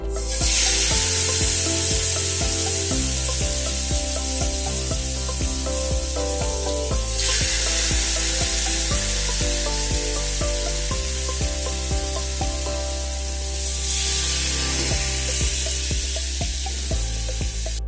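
Chicken pieces for tandoori chicken fry in hot oil in a pot over low heat, giving a loud, steady sizzle close by that swells at intervals and continues without speech.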